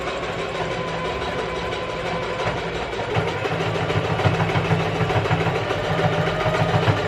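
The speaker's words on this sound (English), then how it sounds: "I'm gonna flip this inside out and then we can actually get sewing." A sewing machine sews a skirt with a continuous, steady motor hum and a rapid rattle from the needle mechanism. The sound is close and fairly loud and grows slightly stronger partway through.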